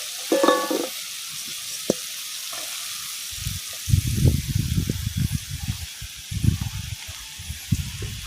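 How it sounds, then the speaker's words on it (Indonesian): Salted fish frying in hot oil in a home kitchen, a steady sizzle broken by bursts of crackling and spitting as the pieces go in, close and fairly loud, with a few clinks of a utensil and no talking. "Kita goreng ikan asinnya."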